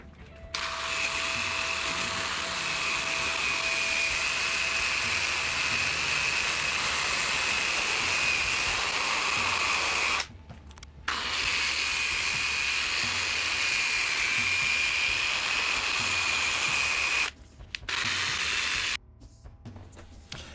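A power sander grinding on painted aluminium, a loud continuous whining rush that runs for long stretches and cuts out briefly twice before starting again, with no talking.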